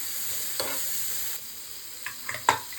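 Green peas and salt stirred in a frying pan, a soft sizzle with a few brief scraping clinks of a spoon against the pan.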